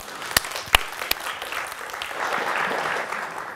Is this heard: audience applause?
yes